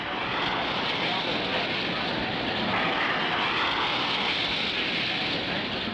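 A drag racer powered by three turbine engines blasts down the strip, a loud continuous broadband roar and hiss that stays steady and full throughout, close and unbroken, with no talk over it.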